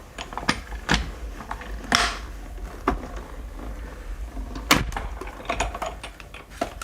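Big Shot die-cutting machine being cranked with plates and an embossing folder fed through, giving a string of quiet, close ratcheting clicks and mechanical clunks in an irregular rhythm, with no talking.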